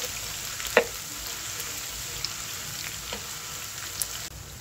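Chopped onion, garlic and green chillies fry in oil with a soft, steady sizzle, broken by a few light clinks and stirring knocks from a utensil.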